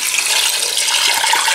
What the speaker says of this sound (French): Je vais arroser avec de l'eau, l'équivalent d'un litre et 2